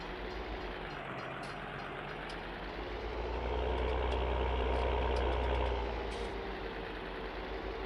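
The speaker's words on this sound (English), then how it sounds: "Here's the train." A train passes in Farming Simulator 19 on an Italian map, a heavy rumbling engine that swells louder midway as it goes by, then eases off, with faint hissing bursts above and no talking.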